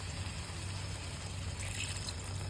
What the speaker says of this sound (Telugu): ముక్క ఉడకాలి కదా, కొంచెం నీళ్ళు పోసుకోవాలి.